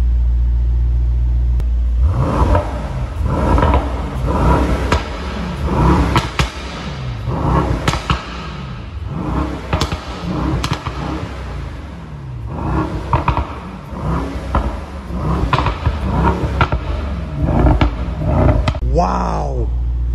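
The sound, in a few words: Mercedes Brabus GT800 engine revving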